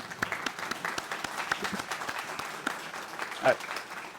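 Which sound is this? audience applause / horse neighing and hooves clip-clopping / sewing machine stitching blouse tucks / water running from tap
audience applause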